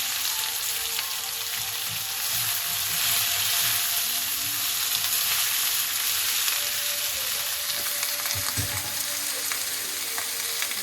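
Onions hitting hot oil in a pan for green tomato curry, a steady loud sizzle and hiss that holds for around ten seconds with a few soft stirring sounds beneath.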